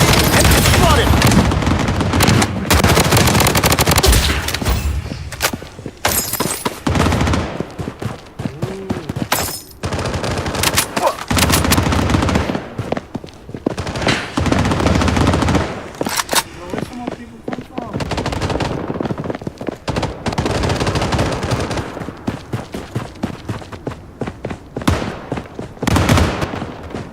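A defensive turret in the shooter Bloodstrike hammers out loud, rapid automatic fire in long and short bursts with brief gaps, and voices come through between the volleys.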